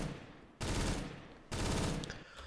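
A Negev machine gun fires in CS:GO in two sustained, rapid full-auto bursts, each about a second long, loud and close, separated by a short pause.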